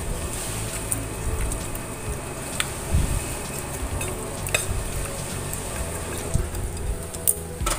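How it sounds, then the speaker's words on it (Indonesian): Tuna curry with coconut milk being stirred in a pan, a steady low sizzle and bubbling with soft scraping and occasional light clicks of a utensil against the pan, close and continuous with no talking. "Lalu kemudian aduk-aduk aja seperti ini."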